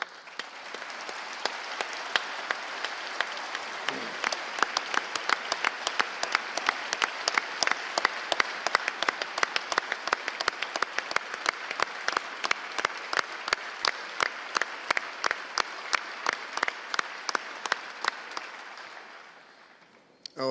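A state legislative chamber bursts into sustained applause for Missouri's Attorney General Catherine Hanaway, many hands clapping in a broad roar with sharp individual claps standing out, lasting around twenty seconds before fading.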